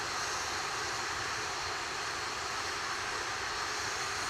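An Atlas V rocket with its RD-180 engine roars steadily during launch, a dense, continuous broadband rumble that holds at a constant loudness without a break.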